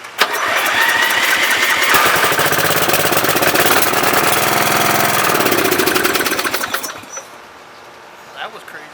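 A free Wizard lawn tractor's old engine cranks over and roars to life, running loud and rough with rapid knocking pulses for about seven seconds before cutting out and falling quiet.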